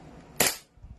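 A single sharp crack from an SRC Hi-Capa airsoft pistol firing, loud and close, with a short decaying tail and faint background shuffling afterward.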